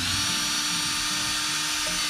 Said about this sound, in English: put your drill on here,